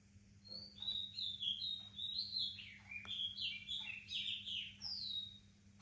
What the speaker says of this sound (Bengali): এইরকম পাখির আওয়াজ শুনতে পাচ্ছি।